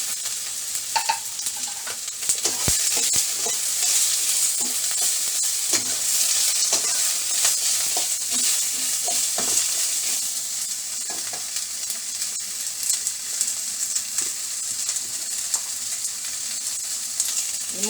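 Onion, capsicum and green chilli fry in white oil in a pan, a continuous bright sizzle with frequent clicks and scrapes of a spatula stirring throughout, close and steady, no talk.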